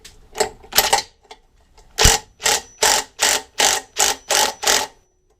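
A socket wrench ratchets a nut holding a Hayter Hayterette mower blade, giving a series of crisp, evenly spaced clicking bursts close by, about a dozen in all, with no one talking.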